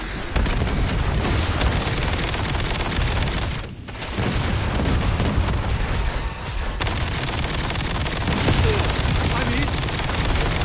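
Dense Black Ops 7 combat with grenade blasts and rapid automatic gunfire, loud and continuous for the whole stretch, with a brief dip partway through before the firefight roars back.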